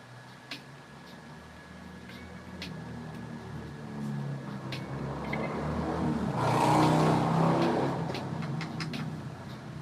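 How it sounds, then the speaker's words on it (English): Rumbling engine noise builds to a loud roar as motorcycles pass by, then fades slightly; continuous traffic hum throughout. "Sorry about the loud motorcycles."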